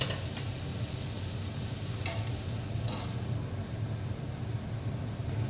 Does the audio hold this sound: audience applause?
no